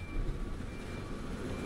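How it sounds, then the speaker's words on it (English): A train moving in the video game Transport Fever 2 gives a steady, low rumbling drone with a faint high hum above it, continuous and even throughout, with no talking. "that's the train going back the other way"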